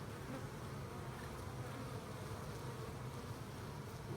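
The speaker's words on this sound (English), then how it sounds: "Pretty calm bees." A dense, steady buzzing drone of many calm honey bees in a hive rescued from a wall, close and continuous with no pauses, filling the whole clip.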